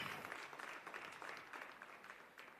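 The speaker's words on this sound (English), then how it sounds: "One more time, ladies and gentlemen, a round of applause." Round of applause from the audience at a township economy summit, steady dense clapping at moderate distance lasting the whole stretch, fairly faint and even.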